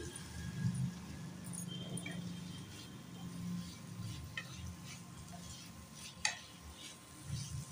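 Potatoes are added to spiced oil and stirred as they fry, a soft low sizzle under scraping stirs, with a sharp clink of a utensil against the pan. The sound is faint and steady, with no speech.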